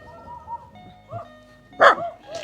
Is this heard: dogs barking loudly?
yes